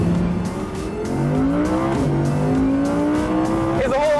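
An Audi R8 engine roars continuously while driving, its note rising through the gears with steady harmonic sweeps and a brief shift near the end, loud and close throughout.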